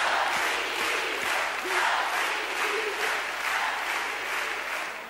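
Concert crowd at Luna Park applauding, dense sustained clapping with cheering from a large audience, loud and steady throughout.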